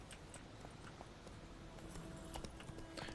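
Horse hooves clip-clop in The Witcher 3 video game, a steady run of soft hoofbeats at middle distance over a constant ambient bed.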